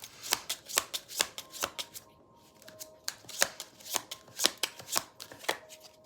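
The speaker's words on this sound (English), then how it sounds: "I was hearing stop and shuffle the cards." A deck of playing cards is shuffled repeatedly, producing a rapid series of crisp riffling bursts and soft flicks with short pauses, close and fairly quiet with no talk.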